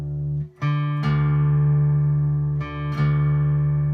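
A plucked guitar string rings with a steady sustained tone, with two more string plucks a couple of seconds apart as a string is tuned to match the open D, the pitch shifting slightly.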